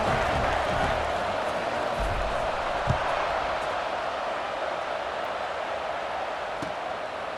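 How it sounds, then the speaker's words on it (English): A college football stadium crowd in College Football 26 buzzes steadily after a touchdown, a dense, even roar of many voices at moderate distance with a faint thud or two, no commentary over it. "this crowd is buzzing after that last score"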